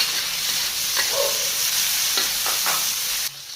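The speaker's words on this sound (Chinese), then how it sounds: "再次起锅烧油，葱姜蒜辣椒爆香。" Scallion, ginger, garlic and chili stir-fried in hot oil, a loud continuous sizzle with a few scraping stirs of the spatula, cutting off abruptly near the end.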